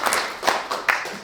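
Brief audience applause at a live Blackfriars event, a few distinct sharp claps spaced across about a second, close and somewhat sparse rather than a full roar.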